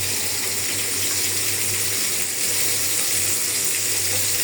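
Chopped onion and green chilli sizzling in a pan with dried fish, a loud, continuous frying crackle and hiss that holds steady from start to finish.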